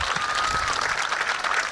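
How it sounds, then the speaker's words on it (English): Steady applause from an audience greeting guest Mr. Donald Rouse at a year-in-review gathering, dense continuous clapping throughout, fairly loud and close, with no voices over it. "he deserves a big round of applause"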